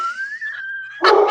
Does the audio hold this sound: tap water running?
no